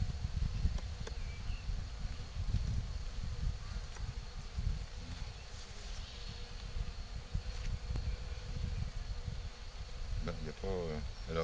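Honeybees hum in a low, continuous swarm drone close by while their colony is moved from a six-frame Dadant nucleus box into a converter hive, with handling noises and a few faint rustles along the way.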